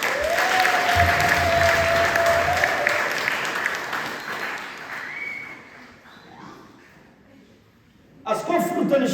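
Church congregation gives a long, loud round of applause, a dense wash of many hands clapping that swells and fades over several seconds, then a voice cuts in.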